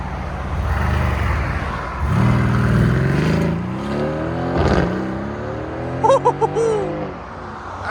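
A 2013 Audi S4 with a supercharged 3.0L V6, cat-back exhaust and resonators, revs and accelerates hard nearby, its pitch sweeping up through the gears, with a few short beeps near the end and people talking faintly.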